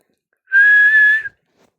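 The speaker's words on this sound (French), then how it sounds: "J'ai sifflé fort." Someone whistles loudly: a single sustained, steady tone lasting under a second, close and clear against silence, then cut off.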